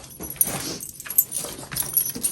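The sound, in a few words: dog barking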